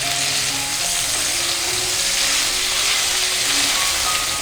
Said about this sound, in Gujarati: ત્યારબાદ તેમાં કટ કરેલા ટિંડોળા એડ કરી દઈશું અને સાથે કટ કરેલા બટેટાને એડ કરી દઈશું.